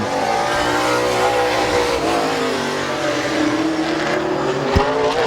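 Race cars lap Midvale Speedway in a hot-lap session, engines droning and rising and falling as they pass, loud and continuous with a sharp thump near the end.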